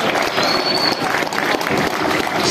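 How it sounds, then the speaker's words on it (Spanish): Crowd applause at a boxing event fills the whole stretch, a dense, steady wash of clapping at moderate loudness with no pauses. "Fuerte el aplauso."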